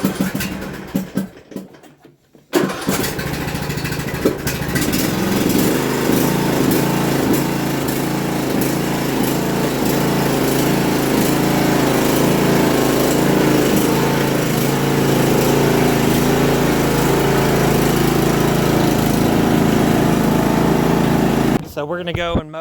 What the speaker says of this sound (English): So we're gonna go and mow now